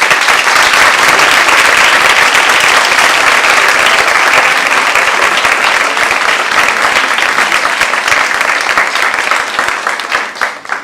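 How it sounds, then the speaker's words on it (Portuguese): A large audience applauds the invited guests of a public talk on love in contemporary times, loud, dense and sustained clapping filling the room for about ten seconds before tapering slightly at the end. "E também pedir que vocês já aplaudam desde já os nossos convidados"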